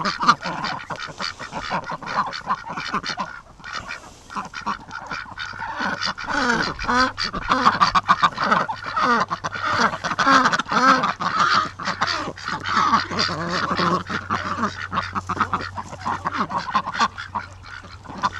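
A flock of ducks quacks continuously and busily, many birds calling over one another at close range with a steady low hum beneath.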